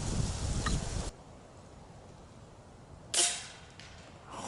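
A Snowpeak M60 air rifle fires a single sharp crack at a tennis ball, followed by a brief fading tail over quiet outdoor ambience, with a rustling burst beforehand.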